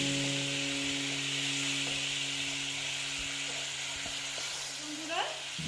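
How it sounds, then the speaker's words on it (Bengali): Spiced masala for a koi fish curry sizzles steadily in a pan after a splash of water, a close, continuous hiss with soft stirring bumps and a faint steady hum underneath. "আমি অল্প করে জল দিয়ে দিচ্ছি দিয়ে আবার মশলাটা একটু মিক্সড করে নিচ্ছি"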